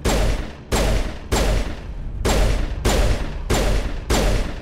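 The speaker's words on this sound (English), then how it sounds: "This is a strong pistol." Pistol gunfire in the video game Mass Effect: seven evenly spaced, loud shots in a regular rhythm, each with a sharp attack and a short decaying tail, with no talking.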